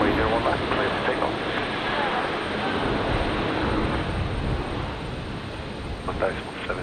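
A jet airliner rolls down runway 01 at Brisbane Airport on a stormy night, its engines giving a loud, continuous roar that holds steady and eases slightly toward the end.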